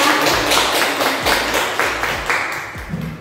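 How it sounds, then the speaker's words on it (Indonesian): An audience in an indoor session claps in a short round of applause, with several sharp, uneven handclaps close by that fade toward the end. "Tepuk tangan untuk Bapak Ibu kita."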